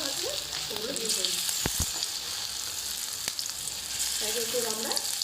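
Chicken pieces for chili chicken fry in a pan with a steady, bright sizzle throughout, a couple of brief clinks of stirring, and a voice speaking quietly over it at the start and end.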